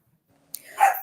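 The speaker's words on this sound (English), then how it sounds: "Sammy, stop barking." A pet dog named Sammy barks once indoors, a single sharp, fairly close bark followed by a brief whimpering tail.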